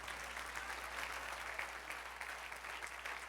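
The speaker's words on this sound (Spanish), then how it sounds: "Dale un aplauso al Señor." A church congregation applauds the Lord after a sermon, an even, sustained wash of many hands clapping at moderate distance with no talk over it.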